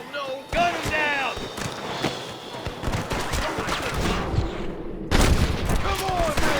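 Rapid bursts of gunfire in a Red Dead Redemption Remastered shootout crack over game music and ambience, with dense volleys throughout and a loud flurry near the end; voices are heard between shots.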